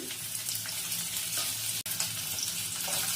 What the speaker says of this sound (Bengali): রসুন কুচিটা একটু ফ্রাই হয়ে যাওয়ার পর আদা কুচিটা দিয়ে দেবো চারটে লঙ্কা কুচি